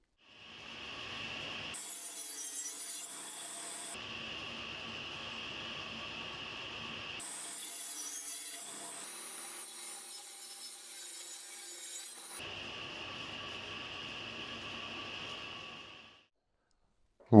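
Wooden slats for a beehive being cut by a saw, a steady rasping, whining cut that runs in several long passes separated by brief pauses, fairly quiet and with no talk.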